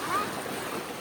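Sea waves wash steadily against the shore at a fishing spot, giving a soft, continuous broadband rush with wind noise on the microphone.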